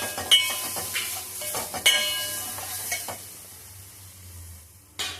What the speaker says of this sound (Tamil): போட்டு எல்லாத்தையும் வதக்கி விட்டுக்கலாம்